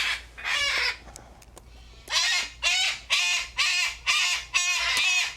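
Coastal birds calling outdoors, a series of about six loud, harsh repeated cries in a steady rhythm with brief pauses between them.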